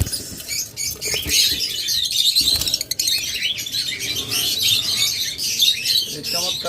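A pair of lovebirds fills the space with constant high, busy chirping and chattering. The chatter is close and loud, with light rustling beneath it.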